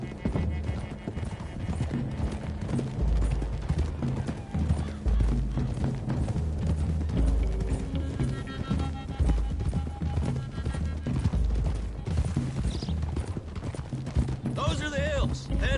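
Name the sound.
horses galloping with hoof clip-clop in Red Dead Redemption 2 video game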